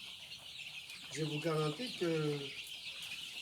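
Young chickens about 20 days old cluck in two distinct rising calls, close and clear over a soft barn background hum, with a brief spoken word.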